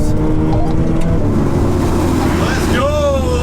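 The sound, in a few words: VW Golf R and Ferrari 488 Pista accelerating in drag race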